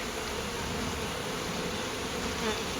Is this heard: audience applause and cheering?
no